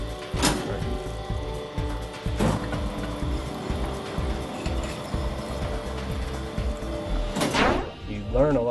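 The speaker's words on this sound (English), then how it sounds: "he's going to go ahead and hone these two rods, about 3 licks, just to see how it's cutting" A honing machine works on two engine connecting rods, giving a steady mechanical grinding and scraping with rhythmic strokes, sharp metallic swells near the start, middle and end, at close range.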